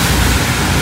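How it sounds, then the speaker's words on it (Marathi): A large waterfall roars as a steady, loud, broadband rush of falling water, heard close and continuous for a brief moment with no speech. "इकडचा किती मोठा वॉटरफॉल"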